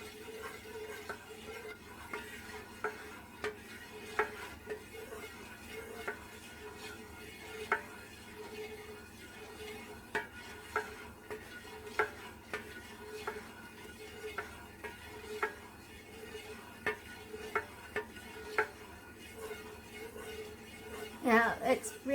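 A spoon stirring melted wax blended with dye and fragrance oil for wax melts, producing steady faint scraping and regular clinking taps against the container over a quiet background.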